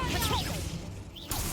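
A fire spell whooshes out in Hogwarts Legacy, a brief swishing burst with an airy crackle, followed by a second rising swoosh about a second later over a busy game soundscape.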